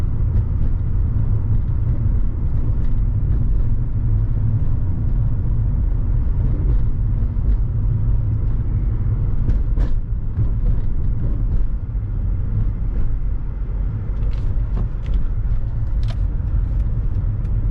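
A Mercedes-AMG E55 Kompressor cruises along, its supercharged engine a steady low rumble under the cabin noise, even and continuous with a few faint knocks and clicks and no talking.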